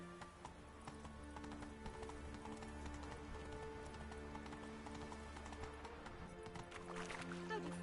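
Roach the horse gallops in The Witcher 3 game, a steady rhythmic clip-clop of hooves running continuously beneath layered game ambience and music, moderately close and even throughout.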